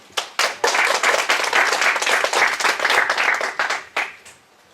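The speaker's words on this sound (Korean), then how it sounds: "저희 팀 박광호 매니저를 박수로 맞이해 주십시오." A conference audience applauds to welcome a product manager onstage, with a few sharp opening claps swelling into steady group clapping that tapers off into quiet near the end.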